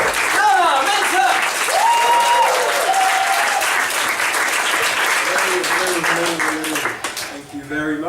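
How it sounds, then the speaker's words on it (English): A comedy club audience gives a strong, sustained round of applause as a comedian comes on stage. The dense clapping runs the whole time under a voice that talks over it, and it thins out toward the end. "That was a strong clap. Very strong clap."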